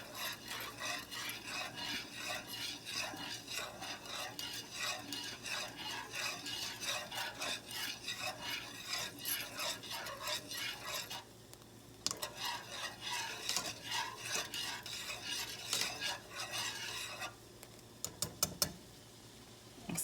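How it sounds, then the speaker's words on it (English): A whisk scrapes and rattles rhythmically in a pot of potato soup, fast close repeated strokes that pause briefly twice before resuming. "I'm trying to whisk this with one hand"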